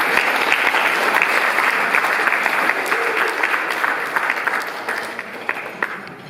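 Wedding guests break into a round of applause, loud, dense clapping from a crowd that holds steady and then gradually thins out toward the end.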